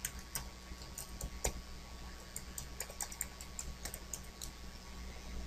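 Quiet, rapid clicking of keys on a computer keyboard, irregular taps running steadily throughout at close range with no voices.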